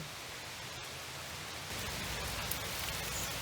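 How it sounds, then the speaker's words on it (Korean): Rain falls on a durian farm as a steady, soft hiss of drops that grows slightly louder partway through, with no voices over it. "비 오고 바람 보니까 역시 시원합니다."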